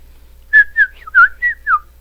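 Whistling imitates a canary's song in birdlike phrases, five or six short warbling notes with quick pitch slides, clear and close with no talking.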